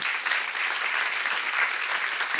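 A church congregation at a Korean worship seminar breaks into sustained applause, a dense, even patter of many hands clapping at once, steady and fairly loud for a couple of seconds with no voice over it.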